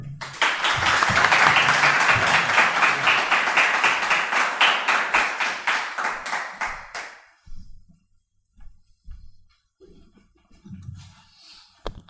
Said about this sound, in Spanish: un aplauso de nuevo para él